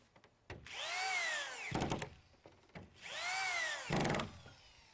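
A power drill drives 1.5-inch screws through plywood into a wooden deck support beam on a skateboard halfpipe: two separate whirring bursts, each a rising then falling whine that ends in a short grinding bite of the screw seating, close and clear.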